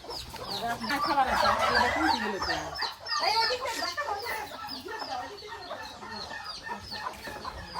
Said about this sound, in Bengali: এই যে মুরগি খাচ্ছে এখানে